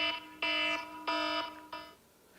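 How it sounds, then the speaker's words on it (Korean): Wake-up alarm tone plays in four loud, evenly spaced electronic beeps, each a bright steady buzz, with the last one shorter and fading into quiet room tone. "어쨌든 저는 경보기를 가장 많이 씁니다."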